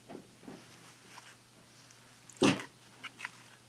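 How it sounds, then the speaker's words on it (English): Dogs making noise indoors: a sharp, loud yelp or bark in the middle, with softer snuffs and small bursts before and after it against a quiet hum. "My dogs are just making all kind of noise."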